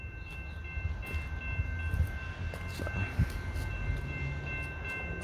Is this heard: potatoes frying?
no